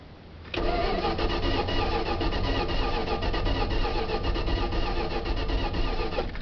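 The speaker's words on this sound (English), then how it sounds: "and crank it a couple times here." Engine of a 1977 Dodge van with the choke set, cranking and catching into a loud, steady running roar that holds for several seconds, close by with no talking.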